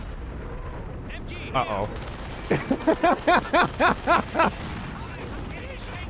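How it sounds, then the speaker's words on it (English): A rocket artillery barrage in a video game: about eight sharp launches fire in quick, evenly spaced succession, loud and close, after a couple of earlier blasts, with a brief spoken remark near the start. "Rocket batteries have the target. Initiating fire sequence. Commencing barrage."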